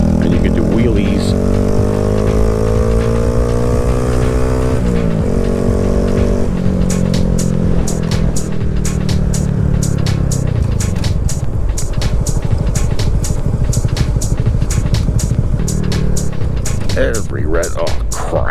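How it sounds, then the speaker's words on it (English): A Honda Grom small motorcycle engine revs and runs loudly and steadily, the pitch climbing and shifting through gears, with a rapid popping exhaust toward the end and wind noise throughout. "just a very fun scooter with gears, and you can do wheelies."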